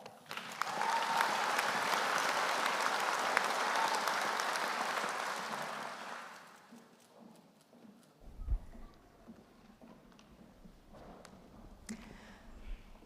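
Graduation ceremony audience at the University of Otago applauding, a dense sustained round of clapping for about six seconds that fades out, followed by quieter room noise with scattered thumps and footsteps.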